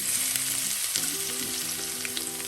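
Fennel seeds and garlic fry in hot oil for a potato masala curry, giving a close, steady crackling sizzle that runs unbroken throughout, with faint low tones underneath.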